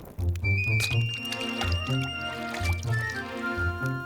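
Liquid sloshes and gurgles in repeated bursts as water is poured onto crackers and squished into them, close and fairly loud.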